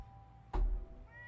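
A single short cat meow inside the video game Fallout 4 cuts in over a low game ambience and quiet background music.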